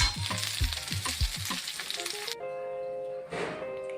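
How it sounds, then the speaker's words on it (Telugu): Green chillies fry in oil in a kadai with a bright crackling sizzle and several quick stirring scrapes, before the sound cuts to steady background music. "పచ్చిమిరపకాయలు వేసుకోవాలి. అవి బాగా వేగేలా చూసుకోవాలి."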